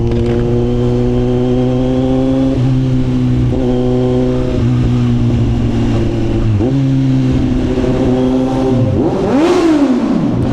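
A Kawasaki Z900 with its 948cc engine revs loudly up close, climbing and dropping through several throttle blips before a final rising rev, with no talk over it.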